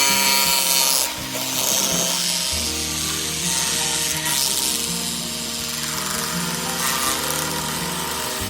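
Steady abrasive rubbing against a pallet wood piece, a continuous gritty scratching with slight changes in pressure, close by and without speech.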